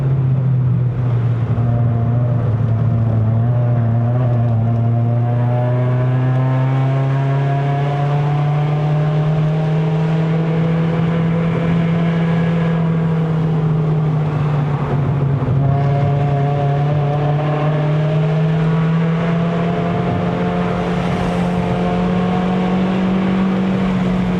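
A Toyota Vios 1.5J NCP93 with a five-speed manual gearbox climbs the Genting hill road in second gear, its engine holding a steady, loud drone whose pitch rises and dips slightly with throttle, with no talk over it.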